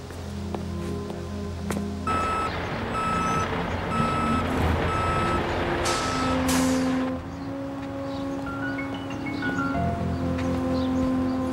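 A truck backing up sounds a steady series of reversing beeps over low engine rumble, with a brief hiss like an air brake partway through and the beeping resuming near the end.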